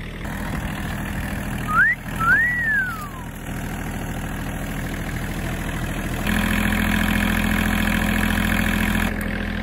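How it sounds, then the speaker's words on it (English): A tractor fitted with an auger idles with a steady mechanical rumble nearby on a goat farm, a brief whistle-like squeal early on, then the engine revs slightly louder and holds. "using the auger on this tractor"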